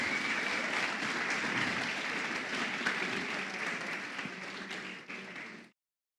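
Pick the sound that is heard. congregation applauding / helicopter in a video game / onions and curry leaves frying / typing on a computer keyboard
congregation applauding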